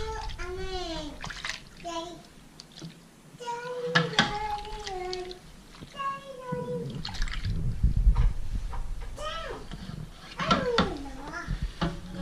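Soap-and-water washing of a vinyl record, with running, splashing water and wet scrubbing continuing under steady nearby talk throughout.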